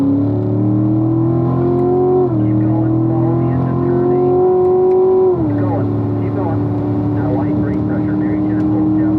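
A car at full throttle on a race track during a 2018 CL1 track session, its engine droning loud and steady inside the cabin with pitch rising through gear changes, while an instructor talks over it.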